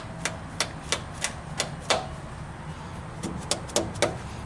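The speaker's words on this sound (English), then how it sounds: "Just lightly tap them in with a dead blow hammer." Light taps of a dead blow hammer seating dowel pins into a Chevy 5.3 Vortec LS engine block land at an uneven pace, a dozen or so sharp knocks with a short pause in the middle, close by over a low hum.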